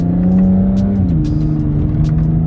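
BMW 3 Series on a test drive after an ignition coil repair, its engine holding a steady, loud in-cabin drone with a slight pitch shift as it pulls along, no talking.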